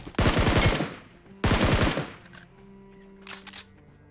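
Two loud, close bursts of rapid automatic gunfire in a video game, each about half a second long, followed by a fainter distant burst and quiet game hum.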